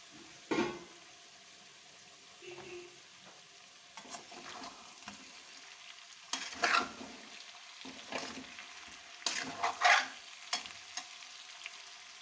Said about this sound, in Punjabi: ਦੋ ਤੋਂ 3 ਮਿੰਟ ਲਈ ਮੀਡੀਅਮ ਫਲੇਮ ਤੇ ਆਲੂਆਂ ਨੂੰ ਢੱਕ ਕੇ ਪਕਾ ਲਾਂਗੇ